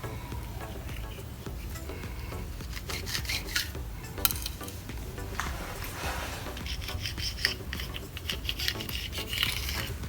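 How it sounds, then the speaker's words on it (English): Close, soft knife strokes through rolled dough for a crunchy snack, an irregular series of scraping cuts with a few sharper taps against the board, no voices. "we are going to cut it into strips."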